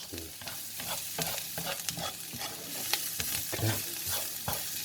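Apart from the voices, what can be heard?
stirring garlic and onions frying in a pan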